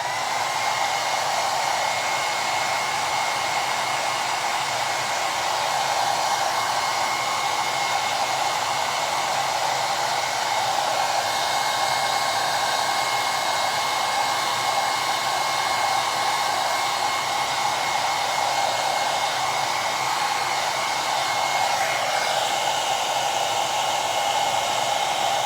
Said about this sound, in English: I'm going to go ahead and heat set it or dry it.